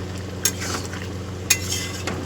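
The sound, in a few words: stirring chicken curry in a covered pan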